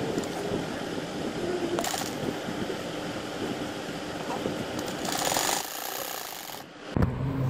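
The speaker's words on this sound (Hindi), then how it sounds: "अब मैं इसकी सिलाई लगाने लगी।" A sewing machine runs steadily, stitching the hem of a double bed sheet, with a rapid mechanical clatter that continues for several seconds and pauses briefly near the end.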